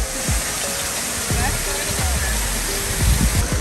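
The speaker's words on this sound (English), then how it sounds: "And this is the Bank of America waterfall." The Bank of America waterfall at Gladys Porter Zoo gives a steady broadband rush of falling water, with people talking close by and scattered knocks over it.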